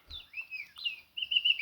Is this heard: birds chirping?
yes